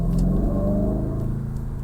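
A 2025 Aston Martin Vantage engine revs in track mode: a loud, close rumble that holds steady with a slight rising tone, no talk over it.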